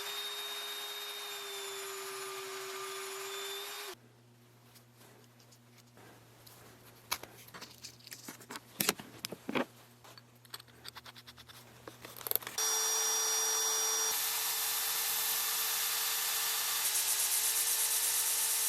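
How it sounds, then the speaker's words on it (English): Small bandsaw slicing through a steel track adjuster shaft, the blade grinding with rough uneven bursts and scraping for several seconds between louder steady motor hums at start and end, close up with no speech. "So I think I can cut it on the little bandsaw."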